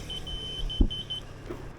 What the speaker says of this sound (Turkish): Şu anda kornaya basıyorum